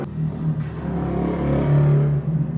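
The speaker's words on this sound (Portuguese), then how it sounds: "Esperar a moto passar." A motorcycle passes along a road, a low engine rumble that swells to its loudest about two-thirds through, then starts to ease off, with no talking over it.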